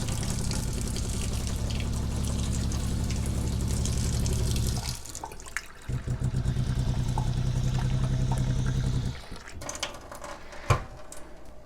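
Cold water runs steadily from a tap to clean white shoes, a continuous close rush that drops off midway, resumes, then thins to splashes and drips near the end.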